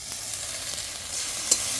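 Onion and garlic frying in a pan, a soft steady sizzle with light stirring taps and one brief sharper clink near the end.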